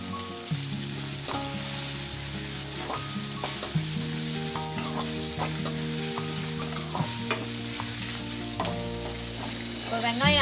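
Onion and ginger-garlic paste sizzle loudly in a pan for chicken noodles while a utensil stirs and taps repeatedly against the metal, steady frying throughout with no voices.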